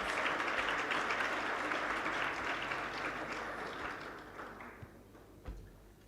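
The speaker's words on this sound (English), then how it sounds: "Let's give them a big round hand of applause." Audience applause at a school sports, arts and culture launch event: a dense, steady crowd of clapping hands that holds loud for several seconds, then gradually thins and fades out, with a few last scattered claps.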